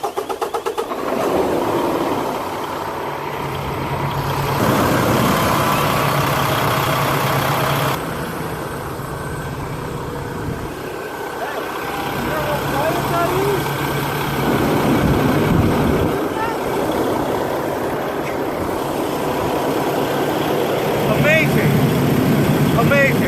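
Car engine cranking and settling into a steady idle just after a fresh AMSOIL synthetic oil change, a low continuous rumble held close by with people talking over it for much of the time.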